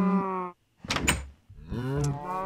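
Cows in the video game Minecraft moo twice, a long low call, a short pause, a clattering sound, then another drawn-out moo, loud and close with no talk.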